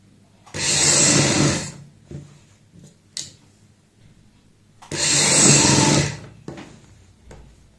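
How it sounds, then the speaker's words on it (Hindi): Sewing machine stitching lace onto the sleeve of a kurti, attached with a single line of stitching: two loud bursts of close, steady motor whirr, each about one and a half seconds long, separated by a pause with faint handling clicks. "एक पैर की ही सिलाई से अटैच करेंगे"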